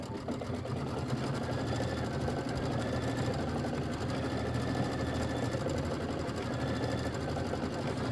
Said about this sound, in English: this is going to be 2 minutes of stitching